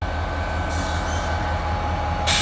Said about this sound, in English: getting some nighttime switching action here